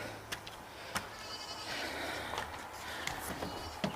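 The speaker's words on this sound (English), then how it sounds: "You can hear the goats." Goats bleat on a homestead in hot weather: several short, faint calls stand out over a steady outdoor background at a moderate distance.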